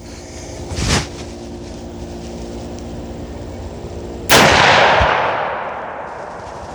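A DMR-style .50 Beowulf rifle fires outdoors: one sharp, very loud report followed by a long rolling echo that fades over a couple of seconds. A fainter crack comes a few seconds earlier.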